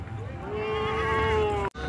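A goat on a farm in Rajanpur bleats once in a long, wavering call up close, lasting over a second before cutting off abruptly.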